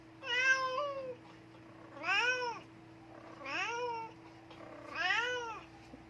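Several indoor cats meow four times in a row, each cry clear and close with short pauses between them, over a steady low hum.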